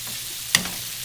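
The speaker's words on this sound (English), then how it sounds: "I'm going to put it in my large saute. And I have to reduce this bacon to usable brown bits." Bacon for a pancetta, mushroom and walnut risotto fries in a large sauté pan, an even close hiss with one sharp clack of a utensil midway, no voices.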